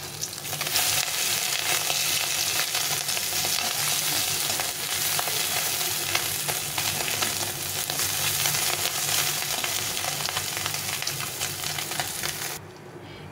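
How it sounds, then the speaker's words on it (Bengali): Raikhor fish fry in hot oil in a wok, a loud, dense, continuous sizzle with occasional crackles close by, holding steady until it drops off abruptly just before the end. "মাছগুলো ভাজা হয়ে গেছে, এখন উল্টে পাল্টে ভেজে নেব।"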